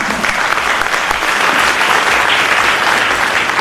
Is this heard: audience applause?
yes